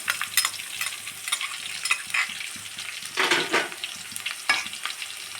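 Cumin seeds and mustard seeds frying in oil in a pan for an okra curry, a continuous close sizzle with crackling pops and a few louder stirring scrapes, no voices.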